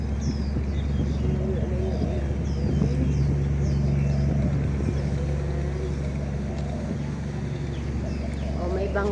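A boat passes on the water near a Hong Kong waterfront, its steady motor drone humming under wind noise and a person talking.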